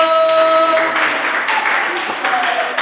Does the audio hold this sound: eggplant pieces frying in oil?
no